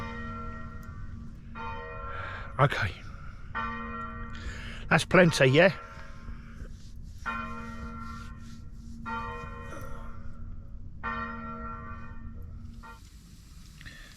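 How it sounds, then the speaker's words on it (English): Church bells peal at the close of a bell-ringing practice, several bells ringing together in repeated rounds at moderate distance outdoors, with a brief burst of nearby noise and a person speaking briefly over them. "I think that is the peal that signals the end of the practice, because it started with such a peal of a single bell tolling."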